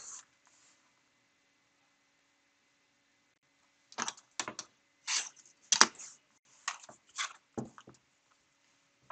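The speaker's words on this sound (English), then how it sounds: "make sure that you apply even pressure on your ruler in line with the way you're going to cut" A craft blade drawn through paper along a ruler, with a burst of short, sharp scraping strokes and clicks arriving in quick irregular succession after a quiet start, close and dry.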